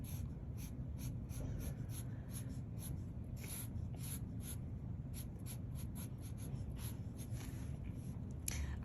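Pencil or marker drawing on paper for a self portrait, a faint, close series of short scratchy strokes in an irregular rhythm over a quiet low room hum.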